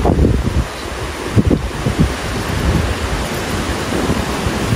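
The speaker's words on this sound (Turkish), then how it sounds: "Zaten rüzgar çok geliyor." Strong wind gusts outdoors, a steady broadband rush buffeting the microphone with a few sharper bursts, continuous throughout with no voices.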